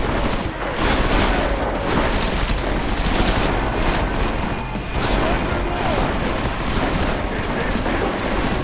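A heavy firefight in the video game Deus Ex Mankind Divided: rapid, overlapping gunshots and bursts crackle steadily and loudly, with a few sharper crashes standing out and voices faintly mixed beneath the barrage.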